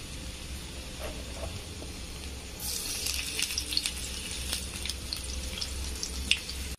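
Chopped garlic frying in oil in a pan, a steady low sizzle that grows brighter and crackles more after a few seconds, with small pops scattered throughout.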